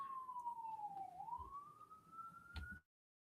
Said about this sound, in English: I had to put this on mute because of the siren of an ambulance or a fire truck.